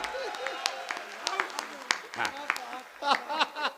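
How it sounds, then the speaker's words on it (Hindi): Scattered hand claps from an audience at a Hindi poetry recital, irregular and moderately loud, with some laughter and voices mixed in. "अगर मेरा बदला ठीक हो गया हो तो एक बार जोरदार तालियां बजा दो आप।"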